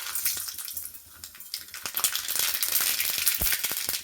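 Mustard seeds sizzle and crackle in hot ghee mixed with coconut oil in a pan, a steady close frying hiss with sharp popping crackles scattered throughout.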